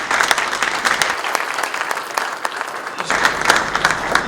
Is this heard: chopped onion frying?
no